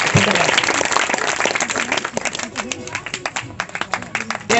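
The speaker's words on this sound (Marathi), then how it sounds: "टाळ्या वाजवा, टाळ्या कमी पडल्या." An audience claps at a Christmas gathering in dense, uneven bursts that grow more distinct toward the end, with talk underneath at the start.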